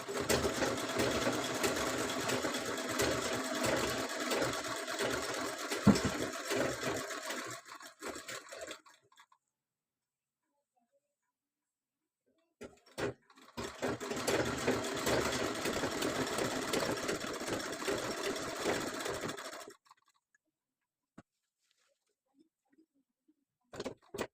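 Electric sewing machine stitching a fall onto a saree, running in two steady bursts of rapid needle clatter separated by a pause, close and unaccompanied by talk.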